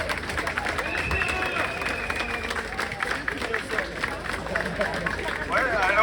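A crowd at a yellow-vest street protest in Paris in July 2022 claps and cheers outdoors, the applause mixed with lively crowd chatter and voices that carry over it throughout.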